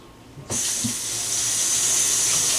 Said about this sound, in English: I'm going to rinse off these tangerines